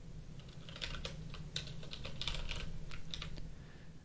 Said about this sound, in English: as I'm like typing this out